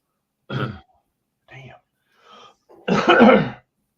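A man coughs and clears his throat several times in short bursts, ending with a longer, harsher bout, close to the microphone with silence between.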